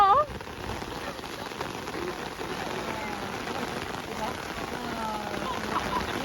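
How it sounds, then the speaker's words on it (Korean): Steady rain patters densely on a surface nearby at Gyeongbokgung Palace at night, a continuous wash of drops with a brief louder sound at the start. "이 빗소리가"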